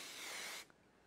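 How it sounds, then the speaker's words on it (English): An aerosol can sprays shiny metallic paint in one steady, close hiss that runs for over half a second and cuts off sharply, leaving faint room quiet. "Comes out in a spray, give it a shake."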